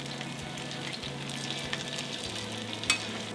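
Hash brown patties fry in a small amount of oil, making a steady close sizzle and crackle with a few small pops, and no talk.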